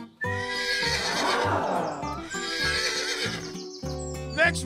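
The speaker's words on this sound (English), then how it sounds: "Imagine what a real horse would do." A horse gives two loud, close whinnies, each a quavering neigh that rises and then trails off, with a brief pause between and a sharp snort-like burst at the end.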